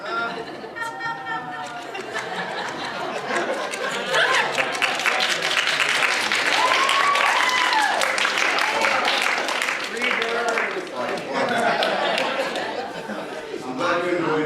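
A lecture audience at Florida International University applauds and laughs after a joke during an IB history exam preparation session. The clapping builds into a loud, sustained swell mixed with chatter and chuckles, then tapers off over about fourteen seconds.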